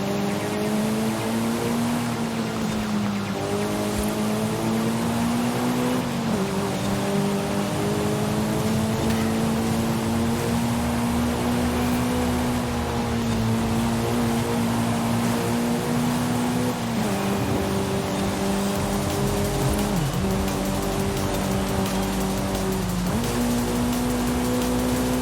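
A Nissan Z engine in Forza Horizon 5 drones steadily through a long run, pitch climbing then dropping at each gear change, with a dense rush of road and wind noise underneath and no talking.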